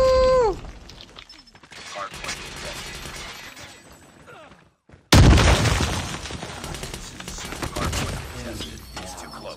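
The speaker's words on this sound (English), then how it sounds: "That's a grenade!" A grenade explodes in a first-person shooter video game, a sudden loud blast after a brief near-silent gap, followed by crackling debris and gunfire clutter, with a busy stretch of game sounds before it.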